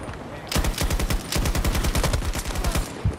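Rapid sustained bursts of LCMG light machine gun fire in the shooter game Battlefield 2042, loud and close, with short pauses between dense volleys and no talk over it.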